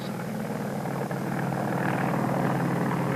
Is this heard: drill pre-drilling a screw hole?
no